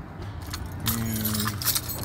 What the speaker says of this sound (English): Let me get the keys out of here.